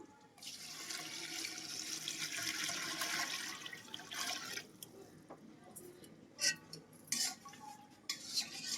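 Water pours steadily into a vessel for several seconds, then stops, followed by a few light metallic clinks of kitchenware.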